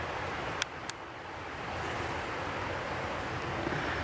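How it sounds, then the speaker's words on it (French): River rapids at night at the Rapide du Diable, a steady broadband rush of water that stays even and close throughout, with two brief sharp clicks early on and no voices. "L'entendez-vous, la rivière?"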